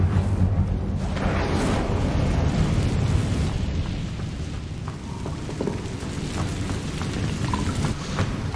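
Incendio fire spell cast in the video game Hogwarts Legacy, a sustained roaring, crackling burst of flame that holds steady at close range for several seconds, with no talking.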